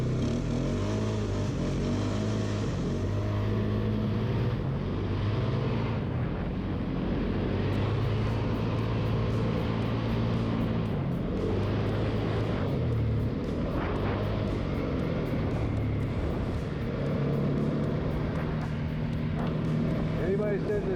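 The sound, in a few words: Polaris Sportsman 570 ATV engine riding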